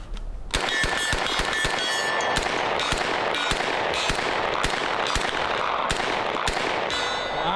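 An H&K MP5 submachine gun fires during a range shooting drill: loud, sharp reports in rapid strings and single shots over several seconds, with no talking.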